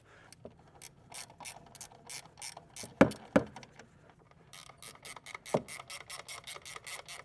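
Ratchet wrench clicking rapidly as bolts are run into a Tesla Model 3/Model Y front control arm, steady bursts of fine clicks with a couple of louder metallic knocks midway, close and alone without talk.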